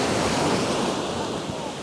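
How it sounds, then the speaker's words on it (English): Small, calm ocean waves wash in close to shore on Thomas Beach in Bali, a steady broadband surf rush with light wind buffeting the microphone, continuous and moderately loud. "There's waves, but calm, close in, very small waves."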